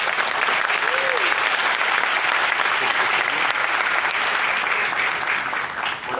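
Sustained audience applause after a videoconference talk, a dense, steady wash of clapping filling the whole stretch at even loudness, with a faint voice briefly audible early on.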